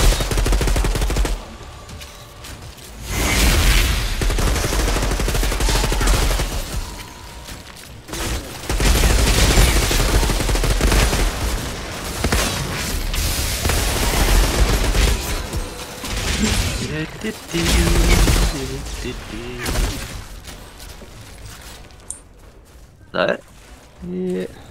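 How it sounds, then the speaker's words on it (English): Electric gun in the co-op shooter Outriders firing in long, loud, sustained bursts with brief pauses, mixed with other weapons and explosions as players talk over the combat. "this electric gun I've got is probably better than that"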